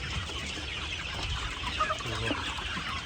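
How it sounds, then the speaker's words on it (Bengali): Sonali chickens cluck softly together on a farm, a close, continuous murmur of low calls with a few brighter clucks standing out. "দেখেন আমার মুরগিগুলা"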